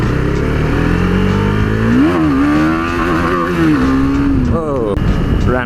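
A KTM 390 Duke motorcycle engine revs with rising and falling pitch, a drone that climbs and dips several times until it runs out of revs, loud and close, with a voice heard faintly underneath.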